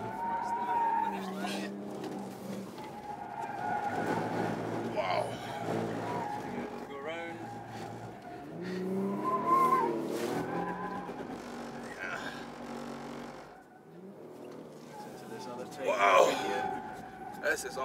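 A 2011 Infiniti M37 on a hot lap of a tight street circuit in Singapore, tires squealing and skidding in understeer through a hairpin under engine drone inside the cabin, with people talking and exclaiming over it.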